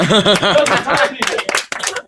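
Someone speaks at a fundraiser, then the audience answers with a short burst of clapping and some light laughter, with voices still present under the scattered hand claps.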